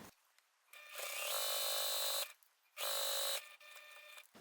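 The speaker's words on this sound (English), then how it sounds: "We're going to sew and go down to the next corner." Sewing machine stitching binding along the edge of a quilted pot holder in a hoop studio, two sustained motor-driven runs of rapid needle buzzing with a brief pause between, close and loud with no talking.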